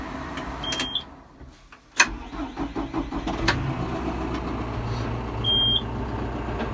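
Farm tractor in Kansas with about 976 hours on it, cranking and catching, then idling with a steady rumble, close by and alone.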